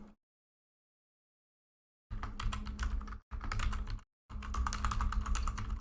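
Rapid typing on a computer keyboard starts after about two seconds of silence and continues as three close bursts of quick clicking keystrokes with brief pauses between them.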